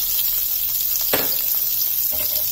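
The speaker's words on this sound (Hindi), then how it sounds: "अब हम डाल देंगे इसके अंदर प्याज" Chopped onion drops into hot oil already holding fried garlic and cumin, bursting into a loud steady sizzle with a brief louder surge and faint stirring scrapes close by.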